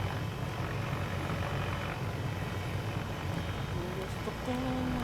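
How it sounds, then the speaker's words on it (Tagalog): An Arma 3 helicopter drones steadily throughout, a dense, unbroken rotor and engine roar that fills the space and stays loud from start to finish. "Sira ata yung helicopter na nahiram ko"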